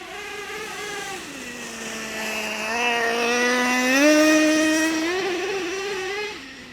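Traxxas Revo 3.3 nitro RC monster truck engine screaming at high revs, a buzzy whine that dips, then climbs and falls repeatedly as the throttle changes, loud and close throughout.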